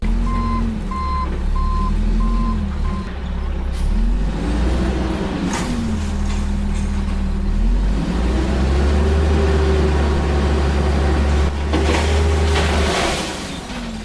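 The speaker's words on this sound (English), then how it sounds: "Back the truck up into the trash." A truck backs up with an evenly spaced reversing beep over a loud, steady low engine rumble that rises and falls, with scattered clunks and rattles.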